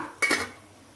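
A single metallic clank of a lid being set onto a pot of okra sambar, short and close, followed by quiet.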